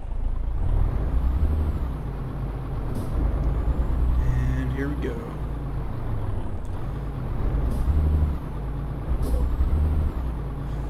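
MAN truck in Euro Truck Simulator 2 rumbling with a steady low engine drone and periodic hissing air-brake bursts, with someone talking briefly over it.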